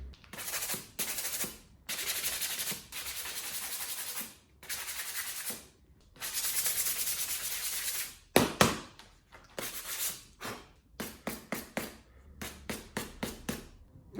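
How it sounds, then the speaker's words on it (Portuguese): Light hand sanding of a small wooden geocache box before painting: bursts of gritty rubbing strokes, longer sweeps at first, then quicker short scrapes, close and fairly quiet. "vamos dar-lhe só uma lixadelazinha mínima"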